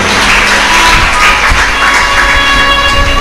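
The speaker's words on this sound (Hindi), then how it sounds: "एक बार ताली बजाकर जोरदार स्वागत करते हैं।" Loud, dense applause from a large audience at a live Shiv Mahapuran religious discourse in Sehore, steady clapping with a crowd roar filling the whole stretch, no voice over it.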